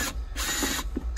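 A 10 mm ratchet clicks in short close bursts while removing nuts from the hybrid battery of a Toyota Highlander Hybrid or Lexus RX400H, with rapid pawl ticks and brief pauses between.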